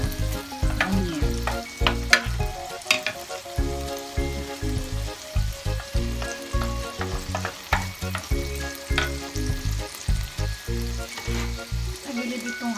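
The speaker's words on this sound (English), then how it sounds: "Caramelize natin yung onion" Onion caramelizing in a pan sizzles and fries steadily, with rhythmic bursts of stirring and scraping close by.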